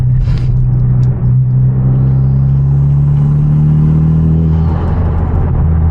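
A Hyundai Genesis Coupe with a manual gearbox and aftermarket exhaust idles with a deep, steady exhaust rumble, swelling slightly in pitch as it revs, close and loud throughout, at night.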